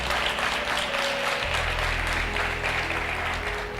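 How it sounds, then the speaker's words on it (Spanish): Church congregation applauding during a service, loud, dense clapping over a sustained low organ or keyboard drone that changes pitch partway through. "la recibimos con un fuerte aplauso al Señor"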